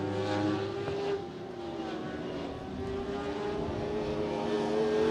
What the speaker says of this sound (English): Listen to the engine in that 48, that deep, throaty, 4-stroke, ground-pounding little monster under the hood